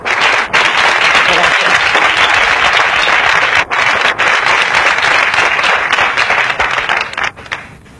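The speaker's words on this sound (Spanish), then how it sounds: "Esto es un aplauso." Dense, loud applause from an audience fills the whole stretch without a break, easing slightly near the end, while a voice speaks briefly underneath.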